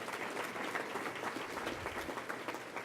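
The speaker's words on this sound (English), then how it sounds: "let's give another huge round of applause to Dan Holmes, who took our photos today." An awards ceremony audience applauds steadily, dense clapping filling the space at a constant, moderately loud level throughout.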